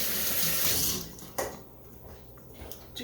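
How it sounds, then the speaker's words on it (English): Hands washing in a kitchen sink full of warm, sudsy water, with a loud, steady stream of running water that stops partway through, followed by soft splashes and drips. "I'm going to wash my hands. I always have a sink full of warm, sudsy water."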